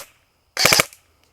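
An ASG Scorpion Evo airsoft gun firing a single three-round burst: three rapid sharp snaps close up, then silence.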